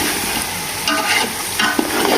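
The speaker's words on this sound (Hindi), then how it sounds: "मसालों को फ्राई कर लेंगे अच्छी तरह चिकन के साथ" Spices and chicken fry in a pot for chicken degi pulao, giving a loud, continuous sizzle with stirring scrapes and clinks running throughout.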